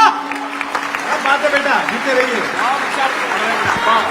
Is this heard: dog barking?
no